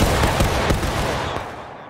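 A massed Civil War-era rifle volley fires in War of Rights as a loud, rolling crack of gunfire that trails off into a fading rumble over about two seconds.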